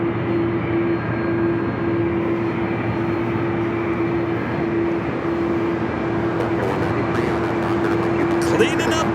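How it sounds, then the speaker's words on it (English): An Aer Lingus Airbus A330-300 taking off from LAX at night, heard as a continuous, loud engine roar with a steady droning hum that holds throughout, with faint clatter toward the end. "A330-300 heading back to Dublin, flight 38 south side at takeoff. You can hear that miles away here tonight"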